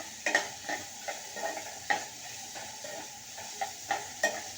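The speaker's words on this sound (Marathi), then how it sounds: "गॅस थोडा मोठा ठेवायचा म्हणजे कांदा लवकरात लवकर छान परतून होईल." Onions sautéing over a high gas flame for chole give a quiet sizzle under repeated rhythmic scrapes and taps of a spoon against the pan, close and unaccompanied by speech.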